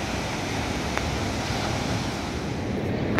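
Sea waves breaking along the shore at Ganpatipule beach in Konkan, a steady broadband wash of surf with constant wind noise on the microphone, loud and continuous throughout with no voices.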